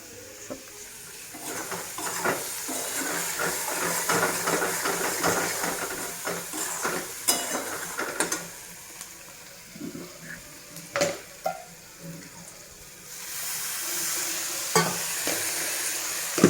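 Potatoes frying in hot oil with stone-ground spice paste for a cauliflower and potato curry, stirred steadily: a continuous close sizzle broken by repeated spoon scrapes and taps against the pan, with no talking.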